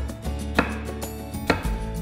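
A knife cuts tomatoes on a board, three distinct close chops spaced about a second apart over quiet background music.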